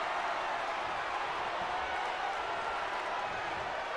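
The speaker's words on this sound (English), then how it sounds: "The crowd are chanting one more time." A dense arena crowd roars steadily in the wrestling video game WWE 2K22, a broad, continuous wash of massed voices and faint clapping that stays loud and even throughout, with no distinct commentary.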